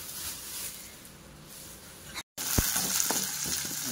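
Dry fruits fry in homemade ghee with a steady close sizzle and bubbling, broken by a brief silence, then resuming with a few clinks and stirring sounds.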